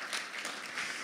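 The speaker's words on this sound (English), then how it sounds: "Can we give another round of applause of support for Riley?" A community gathering gives another round of applause in support of a speaker, a short, soft burst of steady clapping.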